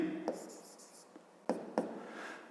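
A pen writes out a fifth-grade math subtraction solution by hand on paper, soft close scratching strokes with a few sharper taps, faint and brief, no talking.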